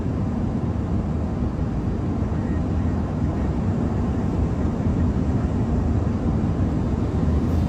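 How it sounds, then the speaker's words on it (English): Steady, loud broadband roar of an Airbus A340 on final approach and landing, heard from inside the cockpit, a constant engine and airflow drone throughout with no talk. "The landing in original sound, original speed."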